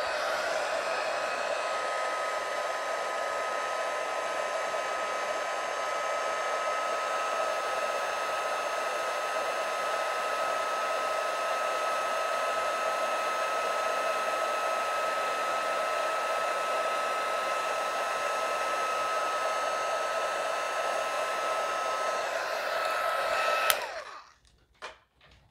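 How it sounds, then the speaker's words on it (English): A heat embossing tool blows hot air in a steady, close whirring hiss with a faint high whine, running continuously for over twenty seconds before clicking off abruptly at the end. "Now we're going to heat emboss this. This needs to warm up for just a second"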